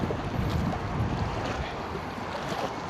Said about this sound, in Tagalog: Malakas po ang hangin, oh.